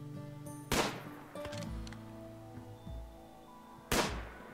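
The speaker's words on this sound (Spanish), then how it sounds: "Creo que han ya dos tiros." Two sharp gunshots in the RimWorld video game during a fight with wolves, a few seconds apart, each a loud burst that fades quickly over a low game soundtrack, with a softer thud between them.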